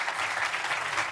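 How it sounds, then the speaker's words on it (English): An audience claps steadily at an Atlanta History Center event, a dense, continuous round of applause filling the whole moment with no voices over it. "If y'all give him a round of applause, please."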